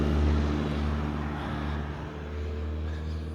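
Road traffic passes close by on a street in a valley town, a loud steady engine rumble with low drone swelling and easing as vehicles go by, with no voices.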